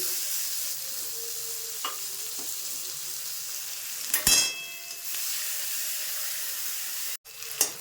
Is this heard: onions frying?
yes